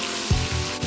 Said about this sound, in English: whisk constantly for 12 to 15 minutes